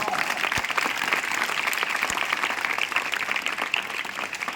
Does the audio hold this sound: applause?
yes